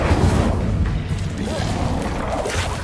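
A burst of fire from the Incendio spell cast in Hogwarts Legacy, a loud booming whoosh with dense crackling rumble that holds steady for a few seconds.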